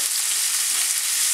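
Spanish chorizo sausages frying in a camp pan and releasing fat and juice, producing a brief, steady, loud sizzling hiss close by with no talk.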